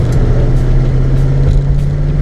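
A 1966 Ford Mustang classic car rolls away with a steady low engine drone close by, continuous and without talk.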